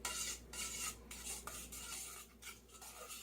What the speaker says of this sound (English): we're just gonna stir it in